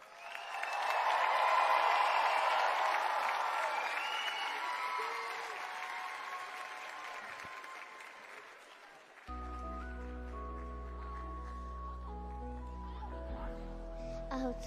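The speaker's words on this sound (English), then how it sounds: "let's give one last roaring applause to all of tonight's iconic performers" Audience at a talent show cheering and applauding performers on stage, loud and full at first, then thinning out as a piano-backed song begins underneath.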